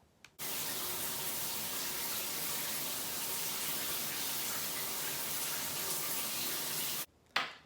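Shower water runs in a steady, dense broadband hiss for about seven seconds, starting and stopping abruptly, with no talk over it.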